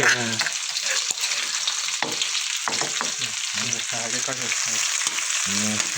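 Minced pork and dried chilies stir-fry in a hot pan, with a steady loud sizzle and the scrape of stirring running throughout, close up.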